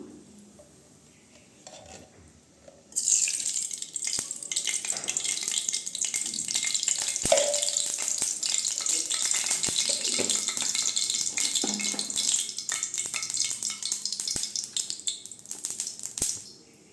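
Oil hits a hot kadai on the stove for a liver fry and bursts into a loud, steady sizzling hiss after a quiet start, continuing without a break.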